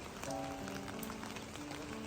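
Soft, steady rain patters on surfaces at a Hindu temple in America on a sub-zero Maha Shivaratri night, with faint tonal murmurs in the background.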